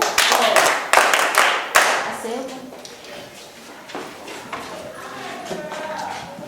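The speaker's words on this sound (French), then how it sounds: "Applaudissez pour vous." Children clap at a school-supplies handover ceremony in Essam Esse, with a brisk burst of claps over the first two seconds before voices and room chatter take over.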